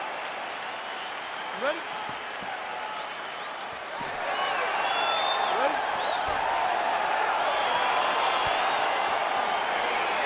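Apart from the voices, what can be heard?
crowd cheering in the video game UFC 4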